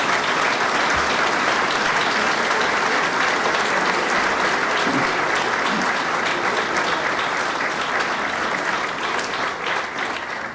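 Sustained applause from an audience at a New York event announcing a GE-led business partnership with Governor Cuomo, dense and steady throughout, tapering slightly toward the end.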